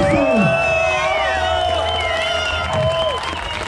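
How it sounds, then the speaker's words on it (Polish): A crowd at an outdoor stage contest during a motorcycle rally in Karpacz claps and cheers with whoops, a steady roar of applause, while whistles and voices ring out across it. "Wszyscy razem, takie wielkie brawo do niej!"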